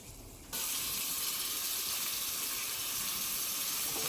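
Chicken pieces dropped into hot curry masala in a pan for chicken curry set off a sudden, loud, steady sizzle that holds evenly after a brief quiet start.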